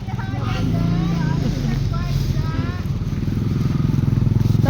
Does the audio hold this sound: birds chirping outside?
no